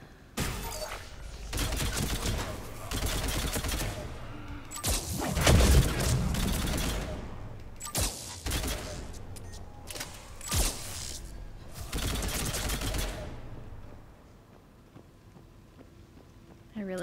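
Heavy battle gunfire in Mass Effect 3 on Earth: bursts of rapid shots and impacts come in clusters with brief lulls, loud and close, mixed with speech over the combat.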